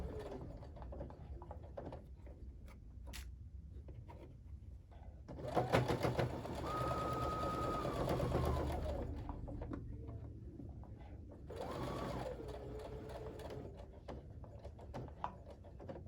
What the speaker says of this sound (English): just let your machine feed it in, kind of ease it in